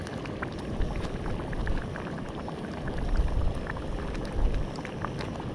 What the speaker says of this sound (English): that's been simmering away for about 10 minutes now